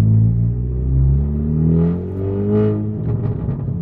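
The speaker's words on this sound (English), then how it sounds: "you guys can kind of hear what the exhaust sounds like inside the car" A 10th-generation Honda Civic Si engine rumbles loudly from inside the cabin, its loud aftermarket exhaust note rising and falling in a couple of revs with a deep, steady drone.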